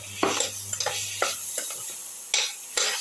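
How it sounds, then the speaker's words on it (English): A spoon stirs rice into a cumin, cucumber and shallot soup mixture in a pot, giving a few close, sharp scraping and sizzling strokes at an uneven rhythm, with no voices. "mix, thoroughly mix with the rest of the mixture"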